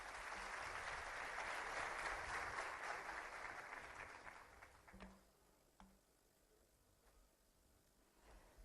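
Audience clapping at a media awards ceremony as a winner accepts his award, steady and fairly distant for about four seconds before thinning out into a few scattered claps and quiet room noise.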